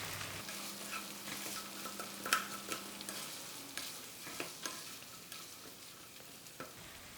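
Mixed vegetables sizzle steadily in a frying pan for shepherd's pie while a spoon scrapes and stirs through them, with soft knocks against the pan over a continuous hiss.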